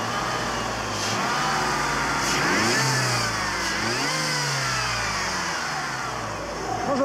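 A car's engine revs repeatedly on a used-car dealer's lot, rising and falling in several distinct throttle blips over a steady idle, close and fairly loud.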